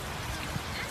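Steady rain falls outdoors during a roadside dispute over a parked car, a dense, even hiss that runs without a break, with no clear voice over it.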